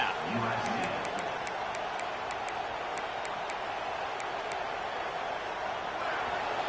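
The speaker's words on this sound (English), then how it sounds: "This crowd bringing the energy and noise early." Dense crowd roar fills a college football stadium at a USC vs UF game, a steady loud wash of cheering and noise with a commentator talking over it.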